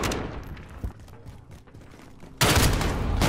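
Gunfire in Modern Warfare, with a few scattered distant shots followed by a sudden loud, close burst of heavy shotgun-like blasts that fills the end, no voices.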